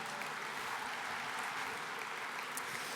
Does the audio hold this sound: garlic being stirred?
no